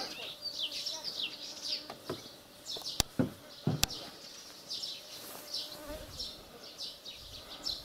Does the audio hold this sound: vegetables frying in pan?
no